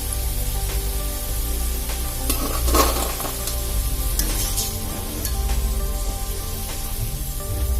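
Potato French fries bubbling and sizzling in hot oil, a continuous crackling fry with occasional louder spits and stirring bursts, close and steady with no talking.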